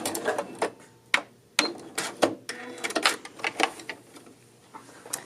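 A sewing machine backstitching at the end of a seam while sewing a dolman sweater: a rapid, uneven run of mechanical needle clicks and taps, close and moderately loud, with brief pauses between bursts.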